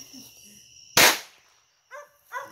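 Firecrackers at a nighttime party give one loud sharp bang, followed by a few quieter crackling pops a second later, with faint background noise between.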